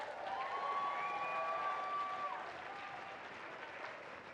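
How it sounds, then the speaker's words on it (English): Quiet applause from the audience for the award finalists at the Ashdown Radio Community Awards 2025, steady clapping that tapers slightly toward the end, with a thin sustained tone running through it early on. "Give everyone a clap"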